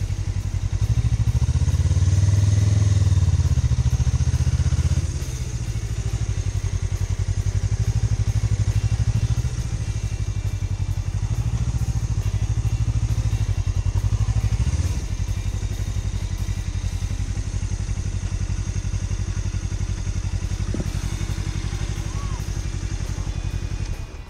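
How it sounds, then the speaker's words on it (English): Motorcycle ridden on a road in southern Spain alongside a second rider on the same model of bike, its engine droning loud and steady throughout with wind rush and occasional clunks and thuds. "In this footage, taken from southern Spain, I'm riding with my friend Jay, who's got the same bike as I do."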